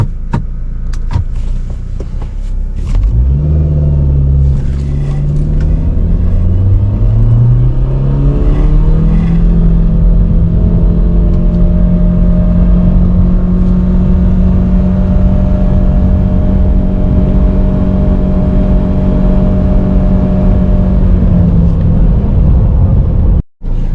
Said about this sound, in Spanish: vamos a ver una aceleración de 0 a 100 de este DFSK 500